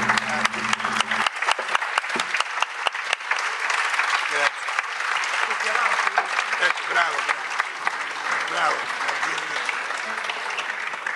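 Audience applause at a folk festival concert, sustained clapping from a large crowd, steady and full throughout, with a brief low tone at the start and voices faintly mixed underneath.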